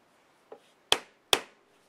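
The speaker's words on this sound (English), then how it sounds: "we can tap those down with a hammer" Three sharp knocks as a hammer taps down staples on a poker table, a light tap followed by two louder strikes spaced evenly apart, close and isolated against quiet.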